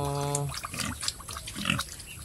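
Native pigs on a farm being fed a mash of boiled bottle gourd and rice, giving soft grunts and oinks in short bursts, close by, with faint wet feeding noises.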